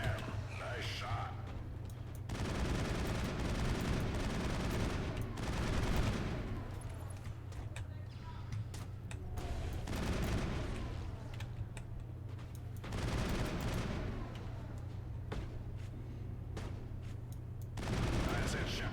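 Gunfire in the video game Mass Effect, bursts of rapid shots in repeated volleys separated by brief lulls, over a low steady game background with some voices.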